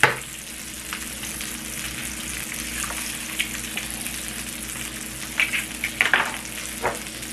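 An egg frying on a griddle for a breakfast sandwich, a steady close sizzle with a few sharper pops and light spatula scrapes near the end, no talk.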